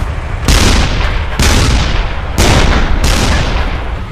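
South Vietnamese forces firing at approaching NVA tanks, loud heavy blasts bursting at intervals in a rough rhythm, each followed by a dense roaring wash of fire, with no talk.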